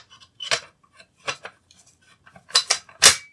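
A bayonet is fitted sideways onto a rifle's bayonet lug, producing several crisp metallic clicks and clinks close up. They come in short clusters separated by brief quiet gaps.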